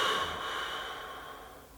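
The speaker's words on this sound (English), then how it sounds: "Inhale, squeeze the body. Exhale, relax the body." A long, steady exhale during a deep breathing exercise, a soft airy rush of breath that fades gradually over a couple of seconds, close and alone.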